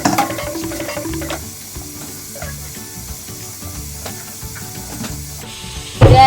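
Pork lung sautéing and being stirred in a pan, a steady soft sizzle with scraping stir strokes and occasional clinks, ending in a louder burst of hissing.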